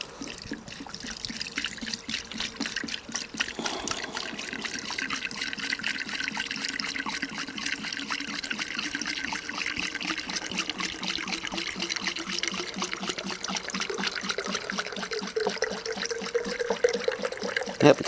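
Cleaning liquid poured into a car diesel particulate filter, a steady continuous trickle and gurgle of liquid running for the whole stretch, fairly close, with a slowly rising filling tone toward the end.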